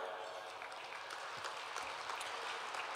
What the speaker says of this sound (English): I do think we need to have a round of applause for Great Boars of Fire